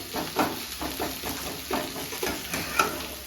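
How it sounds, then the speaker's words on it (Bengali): Onions fry in a pan with a soft sizzle, and a spoon stirs them in repeated scraping strokes every half second or so, fairly close and with no talking. "পেঁয়াজটা ভাজছি"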